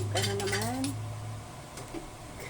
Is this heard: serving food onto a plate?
yes